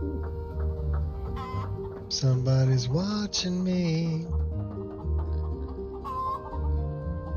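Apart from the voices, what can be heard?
chickens clucking in the video game Skyrim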